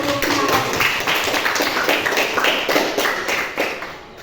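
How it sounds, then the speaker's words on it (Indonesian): A school class claps together in a physics lesson, many hands beating a quick rhythmic pattern of sharp claps close by, loud and steady, with no talking over it. "Tepuk tangan dulu."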